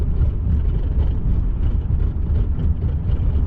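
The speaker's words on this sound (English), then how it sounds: "Oh my God, this is the fastest I've ever hit this road" A 1997 Toyota Camry LE travels fast over a bumpy road, heard from inside as a loud, steady low-frequency rumble and road roar with no distinct breaks.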